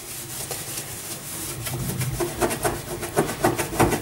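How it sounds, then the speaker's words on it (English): Scrubbing at a stain after spraying a homemade non-toxic multipurpose cleaner, a steady rough rubbing that grows louder and more rhythmic in the second half, with no talking. "I'm just gonna give a little rub."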